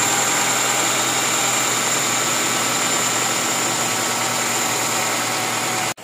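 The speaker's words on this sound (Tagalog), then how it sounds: "Ganyan po tunog ng makina niya." A second-generation Honda CR-V's K20 engine idles steadily and loudly after an overheating repair, a constant rumbling hum with a high whine on top, cutting off just before the end.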